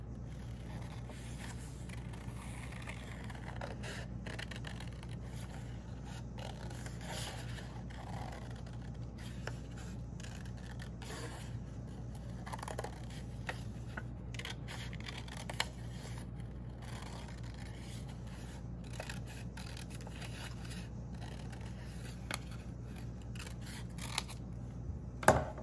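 Scissors snip paper shapes in short, faint cuts scattered over a long, quiet stretch with a steady low hum in the background.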